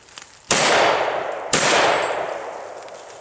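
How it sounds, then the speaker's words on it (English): Two loud, close shots from a Stoeger double barrel 12 gauge shotgun, about a second apart, each a sharp blast with a long fading echo. "And then just fire 2 shots."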